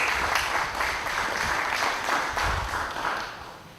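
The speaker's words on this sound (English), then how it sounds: "I believe that you deserve a round of applause for that" Applause from the audience at a donor appreciation ceremony, a steady patter of clapping held at moderate level for several seconds before thinning slightly at the end, with no talking over it.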